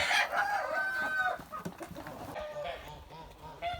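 Young laying hens of the Liven chintz, Amrox and white Leghorn breeds cluck and cackle close by in a poultry yard, a busy run of short repeated calls that trails off and returns near the end.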